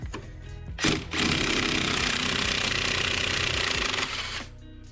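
Impact gun hammering on a rear suspension nut of a 1998 Subaru Impreza 2.5RS, a loud sustained rattling burst of about three seconds after a brief short hit, close by with no talk.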